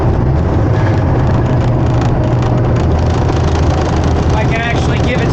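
A semi truck with an 18-speed manual gearbox, just downshifted to 9th, pulls with a loud, continuous diesel drone. The broad, rough engine roar stays steady and close throughout.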